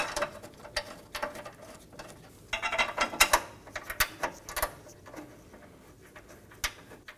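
A ratchet or wrench clicks and clatters in short bursts, snugging down two 13mm bolts on the radiator support bars of a 2011 or later Dodge Durango 5.7L V8. The clicks are close and fairly quiet.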